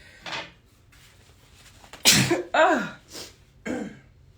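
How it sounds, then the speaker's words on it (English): A sharp sneeze bursts out among a few smaller breathy huffs and throat noises, close by, with quiet pauses between. "Excuse me, I have to sneeze."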